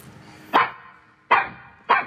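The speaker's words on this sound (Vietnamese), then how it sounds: "Có chó. Nó nuôi chó mà." Dogs kept at a house bark three times, sharp and loud at close range, with short pauses between the barks and no talk over them.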